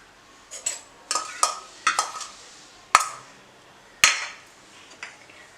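Spoon scraping and tapping against a bowl while chilli, turmeric and coriander powder are mixed into a fish marinade, a handful of sharp clinks and scrapes spaced apart, close and fairly loud in a quiet kitchen.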